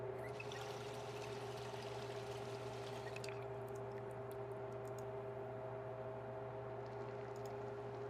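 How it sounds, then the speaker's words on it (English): In Project Zomboid a water bottle is refilled with a steady, faint pouring stream that runs evenly from start to finish over a low, constant hum. "Let's refill our water bottle."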